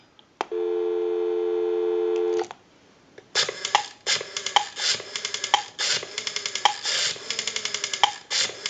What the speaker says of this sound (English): we'll call my number and it'll be busy